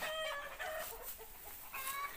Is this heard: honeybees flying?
no